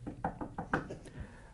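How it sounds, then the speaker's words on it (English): Knuckles rap on a wooden surface in a quick run of about five close, distinct knocks, with a faint sixth tap trailing after, heard up close with no talking. "To knock on wood"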